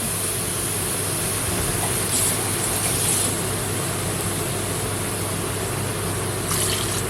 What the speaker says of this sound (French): Je vais rincer ma boîte.